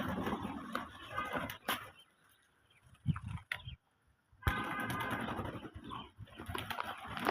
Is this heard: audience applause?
no